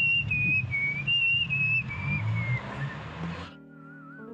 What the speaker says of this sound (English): The competition features a variety of whistling forms like puckering, throat whistling, hand whistling, and even finger whistling.